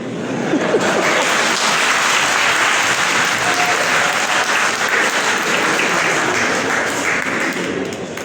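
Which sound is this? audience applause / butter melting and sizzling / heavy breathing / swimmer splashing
audience applause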